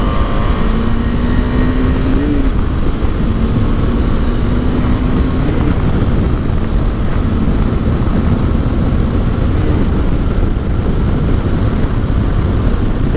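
A 2021 KTM 390 Adventure motorcycle on a demo ride in Phoenix, Arizona, its engine droning steadily and loud under heavy wind rush, with the pitch rising and easing as the rider shifts through gears.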